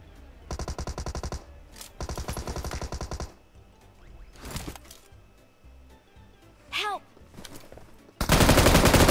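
Rapid machine-gun bursts from a mobile shooter game, two sustained volleys up close, then a quieter gap with scattered single shots and a final loud burst.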